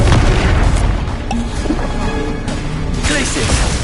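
Booming fiery blasts from the Confringo explosive spell in the Hogwarts Legacy video game, rumbling continuously over about four seconds of game combat, with voices mixed into the loud action.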